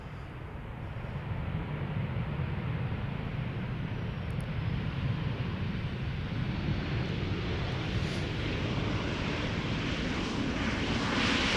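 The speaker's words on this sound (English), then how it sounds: "touchdown of the next 737 KLM flight 1228" A KLM Boeing 737 lands at Amsterdam Schiphol on a windy day, giving a loud, sustained broadband engine roar that holds steady throughout, with wind rumble and no talk.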